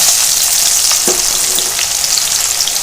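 Chopped shallots (small onions) sauté in a pan with steady, dense frying sizzle, broken by a few brief stirring scrapes and clicks, close and fairly loud with no talk.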